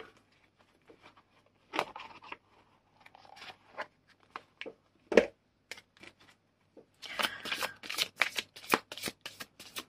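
Oracle cards being shuffled by hand, in bursts of quick riffling flutters and soft card slaps separated by brief pauses, close and fairly quiet, ending in a denser run of shuffling.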